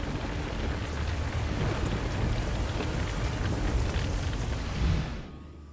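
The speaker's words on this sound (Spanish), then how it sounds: "Con la séptima plaga, el granizo cayó con fuerza sobre Egipto." Heavy hail pours down in a dense, steady roar of pelting ice with a low rumbling undertone, continuing loudly and evenly before cutting off near the end.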